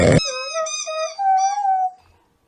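A dog howls in one long, wavering tone that rises and sags, starting after a brief noisy burst and holding close and loud for about two seconds before cutting off.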